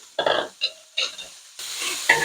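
A whole yellow onion is browned in a pan holding leftover bacon and beef drippings, with bursts of sizzling and scraping stir strokes, close and uneven, building to a steadier hiss at the end.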